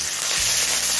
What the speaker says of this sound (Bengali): কাঁচা লঙ্কাটা দিয়ে একদম লো ফ্লেমে মিনিট দিয়ে ভেজে নিলাম